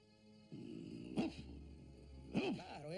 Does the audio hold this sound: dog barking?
yes